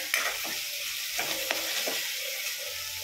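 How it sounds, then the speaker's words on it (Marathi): Chopped onion sizzles and fries steadily in a pan for pav bhaji, with a spoon stirring and scraping through it in a few distinct strokes over the constant hiss. "अगोदर कांदा 1-2 मिनिट चांगला लालसर होऊ द्यायचा"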